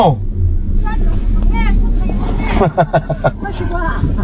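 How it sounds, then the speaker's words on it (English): An informal bus rumbles along with a low, constant engine drone in a rural area of China, while passengers talk and chatter close by over the motor. "This is like an informal bus."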